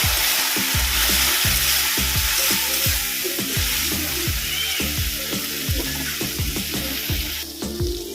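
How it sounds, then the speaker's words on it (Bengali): Spiced masala of cumin and turmeric powder with a splash of water sizzles steadily in a pan while being stirred, with repeated scraping knocks throughout, a Bengali chicken muitha curry in the making. "এবার মশলাটাকে ভালো করে কষিয়ে নেবো"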